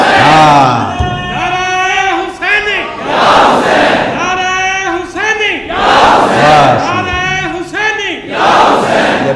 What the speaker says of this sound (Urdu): ایک نعرہ حسینی لگایا کرو، اور نعرے میں کہا کرو یا حسین